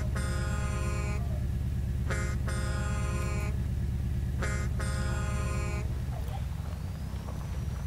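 Three long truck horn blasts sound in the video game SpinTires, loud and close over a constant engine drone, followed by the engine revving as the vehicle pulls away.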